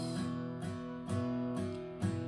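Acoustic guitar strumming the chord progression of a worship song, ringing down-strums falling in an even rhythm of about four strokes, close and clear with no voice.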